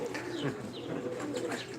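Pigeons coo in a dense, overlapping chorus from a large flock kept by a breeder, steady and fairly close with soft chirps mixed in, no talking.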